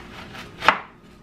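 A single sharp chop of a knife cutting through watermelon on a board stands out clearly against a quiet background.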